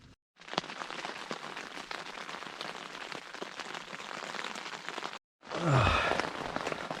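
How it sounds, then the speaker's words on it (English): Heavy rain drums on a leaky tent at night during spring camping beside a Tesla Model 3, a dense close patter that stops briefly, then returns under a loud sigh-like breath. "As you can hear, the rain is at its peak right now."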